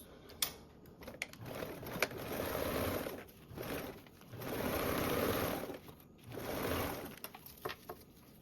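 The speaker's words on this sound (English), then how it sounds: "Now I'm going to sew across this" A sewing machine stitches across a tote bag seam at a 3/8-inch allowance, running in three steady bursts of rapid needle clatter with brief pauses and small mechanical clicks between, close and alone.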